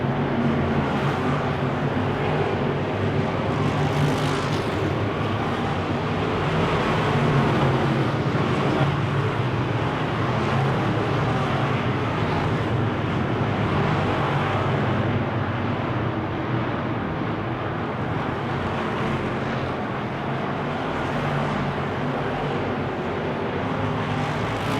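Wissota Midwest Modified race cars roar continuously at full throttle on a dirt track, a dense, loud engine drone with crowd and track noise blended in and no clear pauses.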